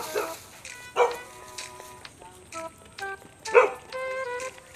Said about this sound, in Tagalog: may tumatahol kasing aso